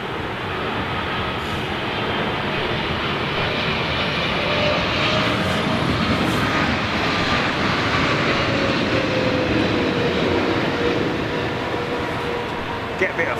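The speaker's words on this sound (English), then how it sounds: "Wow, 2 Saudi Arabian Airline 777s." A Saudi Arabian Airlines Boeing 777 at London Heathrow makes a loud, continuous jet engine roar that holds steady throughout, with people talking underneath.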